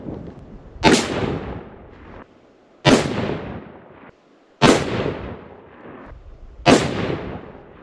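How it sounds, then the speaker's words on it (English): A long range hunting rifle fired at targets, four loud sharp shots spaced about two seconds apart, each cracking hard and then rolling off in a decaying echo across open ground. "I am going to shoot the left target"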